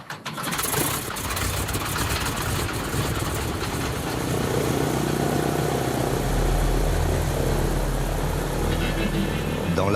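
An antique radial-engine aircraft takes off in the Chitina valley of southeast Alaska, its loud, continuous propeller and engine roar steady throughout and swelling with deep low-end rumble toward the end.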